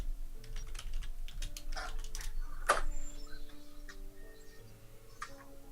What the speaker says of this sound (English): Oh, he's typing.